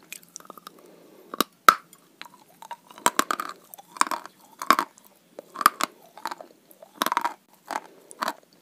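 Dry White Mountain chalk being bitten and chewed up close: a series of sharp, crisp crunching snaps and grinding chews spaced irregularly across the stretch, loud against near silence.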